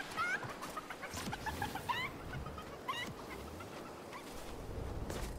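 A Fortnite game chicken clucks repeatedly in short, rapid bursts, fairly faint over a steady game background hum with no talk.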